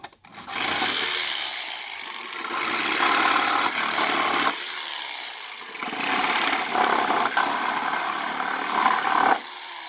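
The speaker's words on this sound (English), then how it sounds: "just so that you could get this sawzall blade underneath" A Sawzall reciprocating saw cuts through pallet wood to remove nails for a DIY deck, a loud, close, rasping buzz in long sustained bursts with brief pauses between cuts, no talking.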